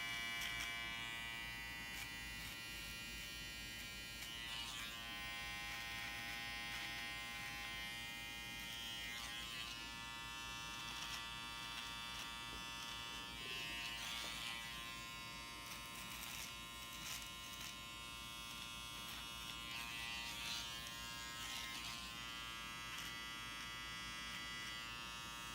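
An electric beard trimmer buzzes steadily along a neck line while shaping a symmetrical beard edge, a close, continuous high-pitched hum with slight shifts in pressure and no talking.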